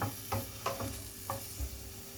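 Ginger sautés in a little oil in a pan for a fish soup, a gentle sizzle broken by several scraping strokes of a spatula, close up and without talk.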